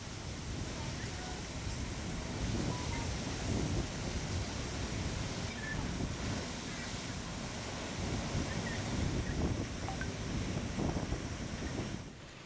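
High sea waves and wind during a big high tide at Bandra Bandstand on the Mumbai seafront: a steady, unbroken broadband roar of surf and gusting wind that holds at a fairly even level throughout.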